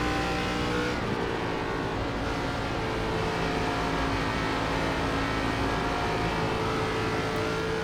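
A steady, loud race car engine in iRacing, an ARCA car lapping Charlotte, droning at a near-constant high pitch with a brief shift in tone early on.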